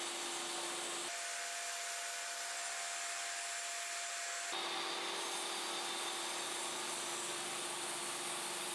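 A table saw trimming a leftover strip from two wood pieces screwed together in a workshop, a loud continuous whining roar with abrupt shifts in tone as the blade enters and leaves the cut.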